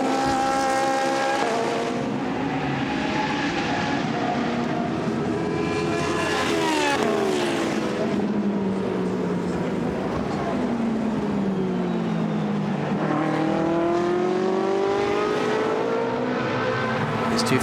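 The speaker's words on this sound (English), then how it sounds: "Two Ferraris running nose to tail." Ferrari GT race cars at speed on the Misano circuit in a qualifying race, engines wailing loud and continuous, pitch rising through gears and dipping as two cars run nose to tail close by.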